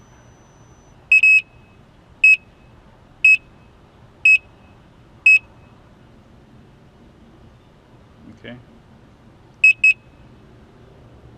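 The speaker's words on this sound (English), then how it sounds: "it just beeped 4 times" Five evenly spaced electronic beeps from a Gotway Msuper V3 electric unicycle, clear and high-pitched, then a quick double beep a few seconds later over a low background hum; one short word spoken.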